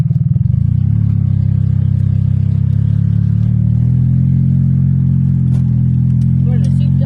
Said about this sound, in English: We're in a souped up golf cart. Going into the woods.